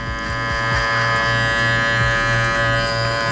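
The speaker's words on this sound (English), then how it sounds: "I'll work my clipper down into that closed position" An electric hair clipper buzzes steadily and close while cutting hair during a low fade, working down to the closed blade position, with a constant hum and repeated brief strokes through the hair.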